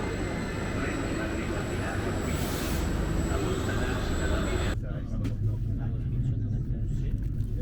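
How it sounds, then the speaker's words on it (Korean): A train bound for Venice arrives at the station with a steady low rumble and rolling noise throughout, then the sound abruptly drops to a quieter, hollower background near the end. "때마침 베네치아로 가는 기차가 들어온다."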